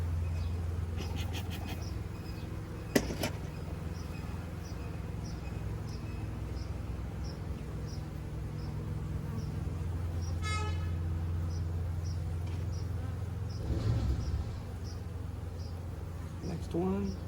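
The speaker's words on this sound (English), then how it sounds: "And just look at those bees" Honey bees hum steadily around an open hive box while a colony is moved from a nuc into the hive, a continuous low buzzing drone close by with occasional other noises over it.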